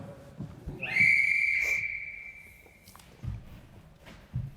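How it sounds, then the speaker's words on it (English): A single sharp referee-style whistle blast, sustained for about two seconds, signals the start of a quiz round, with soft footsteps and shuffling around it. "There'll be a whistle to start you and there'll be a whistle to finish."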